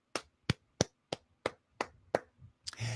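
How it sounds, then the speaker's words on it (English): Hand clapping alone: seven sharp, evenly spaced claps about a third of a second apart, close and loud, ending in a brief burst of noise. "You know, I'm clapping for you"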